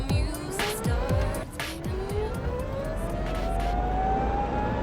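A derestricted Renault Twizy electric car accelerates hard, its motor whine rising steadily in pitch over road and tyre noise, loud and close throughout with no talking.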